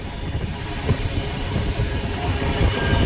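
A train rumbles along the tracks at moderate speed through forest between Haridwar and Dehradun, with a steady low roar and faint rhythmic clatter from the wheels, continuous and fairly loud.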